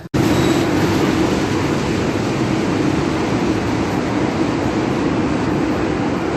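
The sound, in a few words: Bandra–Jammu Tawi–Patna train arriving at station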